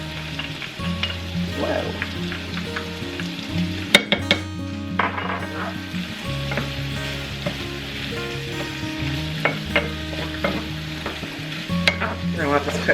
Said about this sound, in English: Go ahead and toss in your garlic.